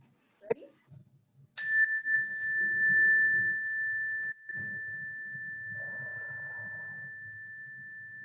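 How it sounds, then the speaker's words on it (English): A mindfulness chime is struck once and rings out clear and high, its pure tone sustaining for several seconds while a voice speaks softly underneath. "When you hear the chime, I want you to stop and I want you to take 3 belly breaths."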